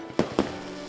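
Fireworks display over Omaha Beach in Normandy: three sharp booming bursts about a fifth of a second apart, with crackling and rumble between them, heard from a distance outdoors.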